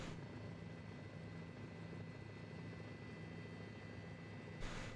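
Simulated helicopter in Microsoft Flight Simulator 2004 near a Las Vegas medical center helipad, a steady droning engine and rotor hum with low thudding tones, continuous and fairly loud with no talking.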